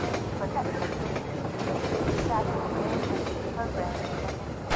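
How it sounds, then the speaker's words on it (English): A train rolls along continuously in Half-Life 2, a dense rumbling clatter with faint wheel squeals, steady and close throughout with no pauses. "Alright, I need to get on this train."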